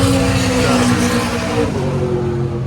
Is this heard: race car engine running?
yes